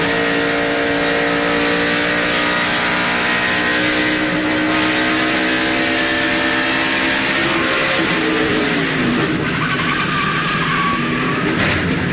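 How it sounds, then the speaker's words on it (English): A NASCAR stock car at the 2002 UAW-GM Quality 500 roars steadily off turn four, then its engine note sags and drops as the driver lifts off the throttle, loud and continuous throughout. "listen when he comes off 4, when he sees those cars, how he backs off the gas"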